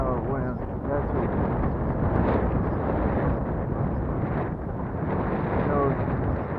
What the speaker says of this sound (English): A little bit windy out there today. Probably 15-mile-an-hour wind.